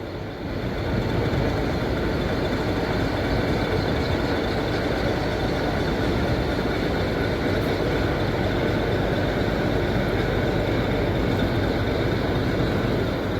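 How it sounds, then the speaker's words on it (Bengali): A Howrah–Bandel EMU local train on the Bardhaman–Howrah chord line, near the Habra car shed, gives a loud, continuous broadband rumble and roar that holds steady throughout. There is no talking. "একটা লোকাল ট্রেন ছেড়ে আসছে।"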